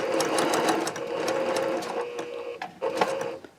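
A domestic sewing machine fitted with a seam guide stitches a quilt seam with steady, rapid mechanical chatter, close and continuous, then briefly pauses and restarts near the end.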